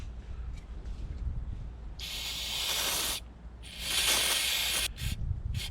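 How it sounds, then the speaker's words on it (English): Gun scrubber solvent sprayed onto the black fouling of a Marlin Model 60 .22 rifle, two loud close hissing bursts of about a second each, then a short third spurt. "I like to spray that gun scrubber on all the black."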